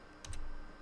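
Two quick key clicks from typing on a computer keyboard, close and faint against a quiet room hum.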